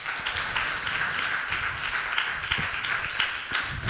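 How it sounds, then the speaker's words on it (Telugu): A church congregation claps hard together at a worship service, a dense, steady wash of many hands that holds at an even, fairly loud level for the whole stretch without any voices. "చప్పట్లు కొడదామా? గట్టిగా కొట్టండి."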